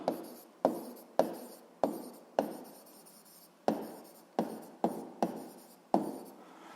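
Notes being written by hand on paper, heard as about a dozen distinct, close pen strokes in short bursts separated by brief pauses, quiet and alone.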